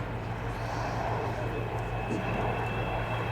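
Avro Vulcan XH558 bomber flying at Biggin Hill air show in June 2009, a steady distant jet roar with a constant low drone filling the whole stretch, no voices over it.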